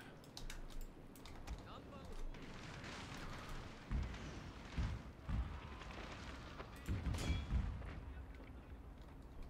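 Cannon fire from the Shogun 2 Total War video game, several low booming blasts landing in irregular bursts over constant battle noise, with someone talking throughout.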